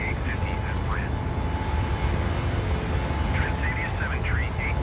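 A PMDG 737 jet climbing after departure from Stockholm Arlanda in MS Flight Simulator, a steady broadband engine roar with faint radio chatter layered over it.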